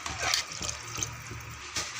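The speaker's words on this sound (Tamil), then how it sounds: "இப்போ இந்த காய்கறி கூட இந்த தண்ணி ஊற்றியாச்சு." Water pours into a pan of vegetables and masala for a vegetable kurma, a close splashing and trickling wash with a few brief louder gushes over about two seconds, with no talking.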